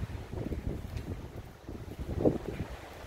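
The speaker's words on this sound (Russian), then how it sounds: "Но вы уже наверняка слышите шум моря" A low, rumbling wash of Black Sea surf at Lazarevskoye, Sochi, rolls in and out, mixed with gusting wind buffeting the microphone, steady and somewhat distant.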